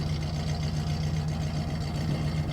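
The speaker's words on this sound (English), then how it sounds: "Now you're listening to this motor run that hasn't run in a very long time." A 1974 Oldsmobile Cutlass Hurst engine, newly running again after a long time unused, idles with a steady, low, even rumble heard alone at moderate distance.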